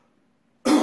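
A voice acts out a king's clumsy cough: one loud, abrupt cough bursting out of near silence, close and rough.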